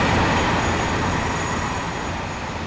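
A passing train in the Farming Simulator 19 video game, a steady loud rumble of wheels and carriages rolling by, with a faint high squeal running throughout.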